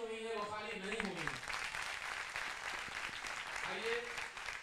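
Applause from an audience at a Holi celebration gathering at a university in Haridwar, a steady faint wash of clapping with a voice speaking over it at the start and again near the end.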